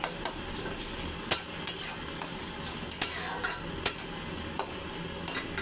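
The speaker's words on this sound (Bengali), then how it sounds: "পেঁয়াজটা ভালো করে ভেজে নিচ্ছি।" Onions with green chilies fry in a pan for an egg bhuna, a continuous close sizzle broken by sharp clinks and scrapes of a utensil stirring at irregular intervals.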